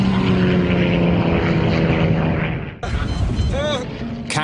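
Propeller airliner diving and fighting to climb, a loud, dense engine roar that breaks off abruptly into a sharp, whining sweep; narration-free but heavy and close throughout.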